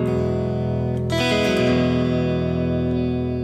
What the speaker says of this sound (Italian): Primo accordo, Mi ad nona,